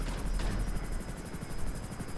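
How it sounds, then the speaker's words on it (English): A Hunter attack helicopter from GTA 5 flies close by, its rotor producing a loud, rapid, even thumping pulse over a constant engine whine, steady for the whole stretch. "The chopper is badly damaged."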